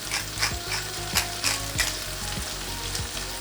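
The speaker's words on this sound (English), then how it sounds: "Now I'm gonna add oil and the garlic, onion we chopped" Chopped garlic and onion fry in oil in a pan with potatoes for a samosa-style omelette, giving a loud, close, continuous sizzle with rhythmic stirring scrapes every half second or so, with no talking.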